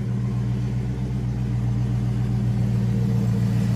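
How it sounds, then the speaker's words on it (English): Car engine idling steadily, a smooth low hum with a constant pitch, close up and unbroken with no talk. "Just listen to the sound of this car"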